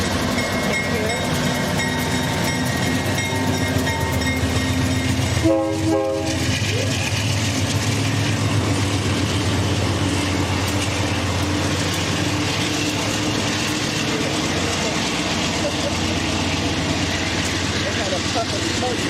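A slow-moving train creeps past at close range in Rochelle, with a loud continuous rumble, steady grinding of cars on the rails and a brief horn blast partway through; a voice is heard talking at points.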